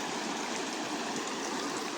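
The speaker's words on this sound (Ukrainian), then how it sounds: "От дошли до річки вже і нас зустрічає така гарна місцевість." A river flows over rocks in the Buzkyi Gard landscape near Mykolaiv, a steady, close, full rush of churning water that continues without a break.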